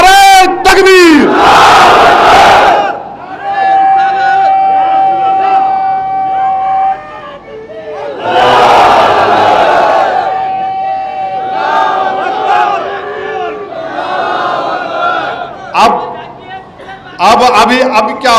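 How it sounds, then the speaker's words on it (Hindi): A political rally crowd in Hyderabad roars the call-and-response chant Nara-e-Takbir, loud massed voices surging in repeated waves, with a leader's amplified voice calling out between the crowd's shouted replies. "अब लगाओ नारा, नारे तकबीर।"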